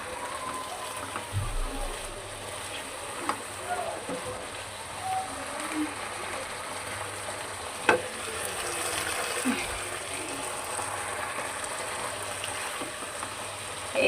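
Pieces of fish bhaji frying in hot oil, a constant close sizzle and crackle lasting throughout, with occasional soft clicks and scrapes and no talking.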